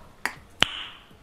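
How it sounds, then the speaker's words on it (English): Two light, sharp claps come a few tenths of a second apart, a sparse and quiet golf clap after a game. The second is crisper and rings briefly before fading. "Golf clap."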